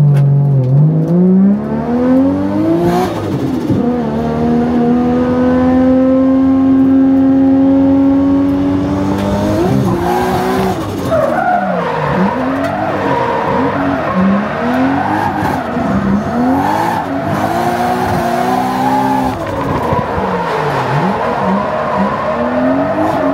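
A race car laps a track in Japan, its engine note rising and falling through gear changes and corners with occasional stutters where it cuts out, loud and close as if heard from onboard.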